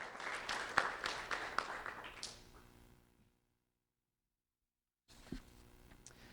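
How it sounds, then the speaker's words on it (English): An audience at a sheriff's office ceremony claps for a boy being honored, a fairly faint patter that fades out into silence, then picks up again briefly. "Round of applause for Christopher."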